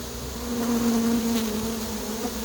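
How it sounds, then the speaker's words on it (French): A swarm of honeybees flying close by makes a dense, steady buzzing drone that swells slightly and then holds, with no voices. "Trop d'abeilles qui volent à mon goût."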